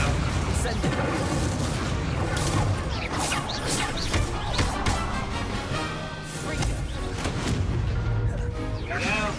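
Fiery spell blasts and crashing impacts from the Hogwarts Legacy video game, loud and dense, booming over a continuous layer of game effects and music with someone talking over it.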